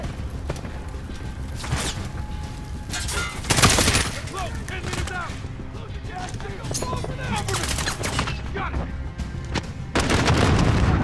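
Machine-gun bursts and heavy explosions from the Call of Duty: Modern Warfare video game, a dense and continuous battlefield din with loud booms and rattling fire, overlaid by shouted in-game dialogue.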